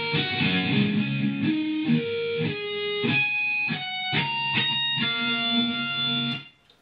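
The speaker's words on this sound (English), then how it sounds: "the first being natural harmonics" Electric guitar played with an effects unit, sounding a series of bell-like natural harmonics: about a dozen chiming notes in an uneven phrase, sustained and ringing, fairly loud and alone, then cut off at the end.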